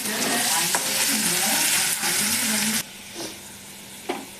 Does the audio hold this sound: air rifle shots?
no